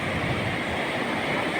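Large ocean waves surge and break steadily on a beach, a dense continuous roar of surf and wind with no pauses and no voices.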